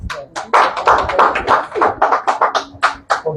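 A small audience at a certificate ceremony claps in a brief, uneven burst of distinct close handclaps, loud and sparse rather than a full ovation.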